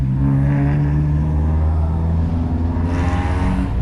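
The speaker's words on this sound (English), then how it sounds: "That Maserati's got a RX-7 rotary engine in it." A Maserati fitted with a Mazda RX-7 rotary engine idles and revs at a show, giving a steady, loud, close-up rumble with a slight rise in pitch near the end.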